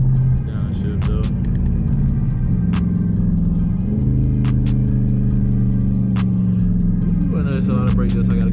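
A 2021 Dodge Charger Scat Pack's engine drones steadily through a downshift and acceleration, its pitch rising and falling over a continuous rumble, with a few sharp clicks on top.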